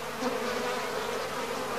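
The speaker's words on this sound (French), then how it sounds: "Eh bien, pensez aux mouches." Flies buzz close by around a large, foul-smelling plant, a continuous, slightly wavering drone of insect wings.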